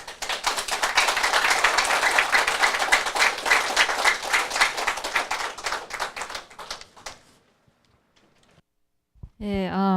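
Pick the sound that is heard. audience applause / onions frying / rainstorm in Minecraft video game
audience applause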